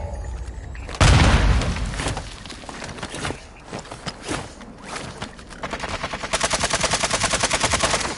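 Battle royale game combat erupts with a loud blast, then scattered single shots and bursts give way to a steady, rapid stream of automatic fire near the end.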